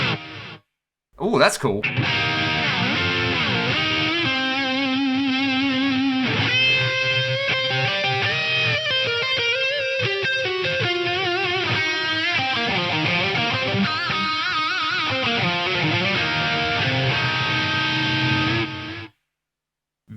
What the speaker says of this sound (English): Let's stay with some distortion.